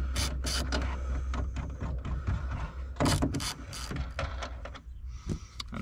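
A hand ratchet removes a 10 mm taillight nut on a Shelby GT350, giving a dense run of clicking and mechanical rattling, close by, continuing steadily for several seconds.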